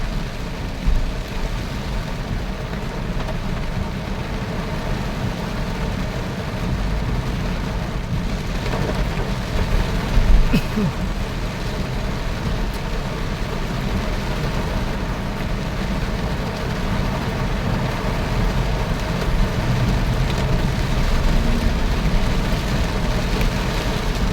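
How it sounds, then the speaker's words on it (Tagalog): Steady heavy rain roars continuously, a dense broadband wash with a low rumble underneath, like downpour heard from inside a moving vehicle; no voices. "Tagal na ang ulan na malakas"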